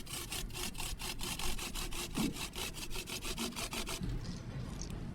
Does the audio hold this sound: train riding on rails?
no